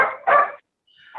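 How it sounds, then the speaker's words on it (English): Several dogs barking outdoors, a couple of loud close barks followed after a short silence by fainter yips, with no talk over them. "You can hear the dogs."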